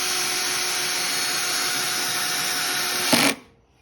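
A power screwdriver drives bolts into a Jeep tail light with a steady whirring whine, close and loud, which surges briefly and then cuts off sharply near the end.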